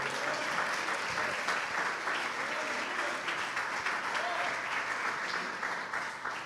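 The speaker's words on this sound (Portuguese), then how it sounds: "Aplauda o Senhor." A church congregation claps in steady, dense applause that stays even and moderately loud throughout, with faint voices mixed into the crowd.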